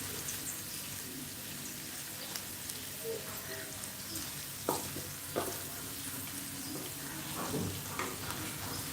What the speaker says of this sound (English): We are going to keep stirring slowly till our mixture is all turned brown.